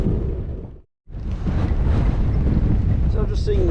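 Strong rushing wind buffets the microphone while cycling downhill on Westray in Orkney, a loud continuous roar that cuts out briefly near the start and then resumes.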